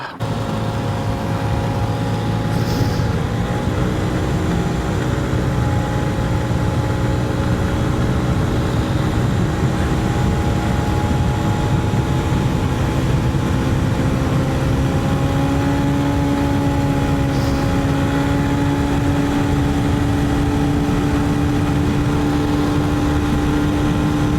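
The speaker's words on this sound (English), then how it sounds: "now it's time to take it out in its first proper road test" 2023 Honda CB125F single-cylinder motorcycle with a high-compression piston, ridden on an open road test. Its engine drones steadily and close for the whole stretch, with gentle pitch shifts as it holds speed and changes gears, plus wind noise and no talking.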